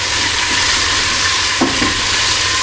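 Red bell pepper frying in a pan for a chicken and chorizo jambalaya gives a steady, fairly loud sizzle, with a couple of soft stirring knocks partway through.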